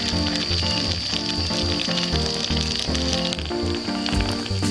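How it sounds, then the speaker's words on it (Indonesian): Sala lauak fritters filled with mozzarella cheese sizzle steadily in hot oil, a close, continuous frying crackle with music playing underneath throughout. "Ini kita goreng sampai golden brown atau kuning keemasan."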